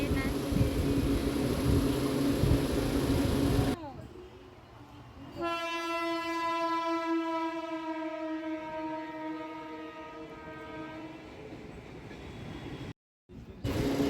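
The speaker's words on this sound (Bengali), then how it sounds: "আর ট্রেন যাচ্ছে, ও তাকিয়ে দেখছে একভাবে ট্রেনগুলোকে" A train horn sounds at a station, holding a long steady blast after a spell of rumbling platform noise, with a brief cut near the end.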